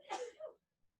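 A single person's sneeze, close and fairly soft, with a breathy burst followed by a shorter trailing exhale.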